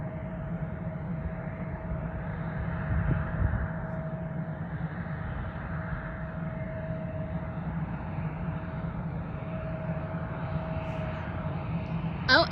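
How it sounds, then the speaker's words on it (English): A small private jet that has just landed at an airport gives a steady, distant engine roar and whine that holds at an even level throughout, with no talking over it. "Here comes a little private jet that just landed."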